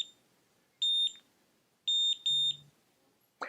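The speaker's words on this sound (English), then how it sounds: "You want to keep it in there while it's beeping." A FancyCurl cordless auto hair curler beeping, three loud, shrill electronic beep bursts, some doubled, separated by quiet pauses, close up with no talking.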